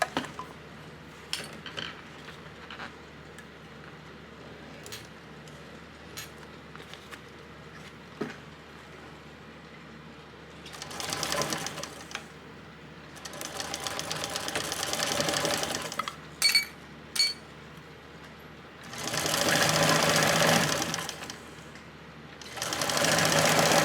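A sewing machine stitches the boxed-corner seam of a crossbody bag at a 3/8-inch allowance, running in short bursts and then longer steady whirring runs, close and clear with no talk.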